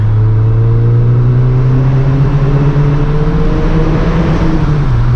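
A 2012 Volkswagen GTI Mk6 2.0-litre turbo engine with an aftermarket diverter valve roars steadily at high revs, its droning pitch climbing under sustained full throttle, loud and close, with no talking.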